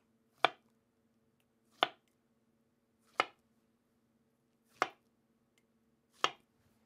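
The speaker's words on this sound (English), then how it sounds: "so now we cut the banana into chunks." A knife cuts a banana into chunks in five crisp, evenly spaced chops on a cutting board, each a short sharp tap with a quick decay, heard close and alone over a faint steady hum.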